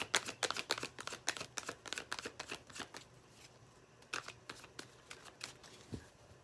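Tarot cards are shuffled close up in quick riffling bursts, a rapid run of crisp flicks, then a pause and a few more shuffles.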